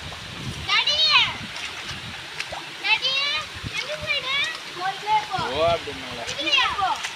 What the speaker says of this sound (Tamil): தண்ணி இதுலேருந்து எல்லா பக்கமும் தண்ணி வருதுப்பா